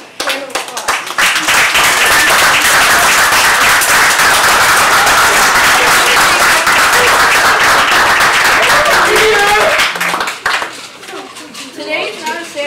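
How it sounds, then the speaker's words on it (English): A crowd claps steadily for camp staff at a Wiffle ball camp hall of fame induction, loud and sustained for about ten seconds before thinning out into scattered claps and murmuring. "Please give the Whiffling staff a round of applause."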